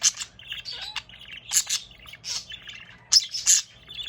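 A pet budgie chirps in a run of short, bright tweets and trills, near and clear, arriving in quick bursts separated by brief pauses.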